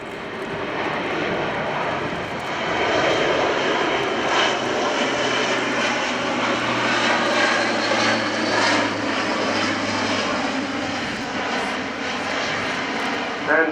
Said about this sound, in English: the power of the 4 Europrop International TP400 turboprops